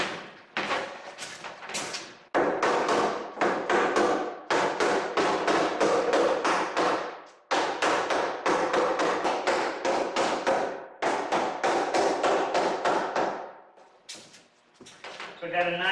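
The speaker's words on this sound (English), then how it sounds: "I'll take a hammer and I'll just knock my staples tight" Sharp, rapid hammer taps knock staples tight into wood on a laminated circular stair stringer, quick bursts of many blows separated by brief pauses, loud and close.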